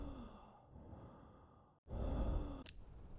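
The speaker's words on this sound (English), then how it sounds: "This gasping noise" Raspy sighing gasps from an infected person in the game Quarantine Zone, two breathy exhalations split by a short pause, close and fairly loud with no talk over them.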